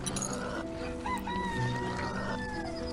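A flock of chickens in the farming video game Hearthlands clucks and squawks continuously, several overlapping calls, some drawn out, heard close and without talk.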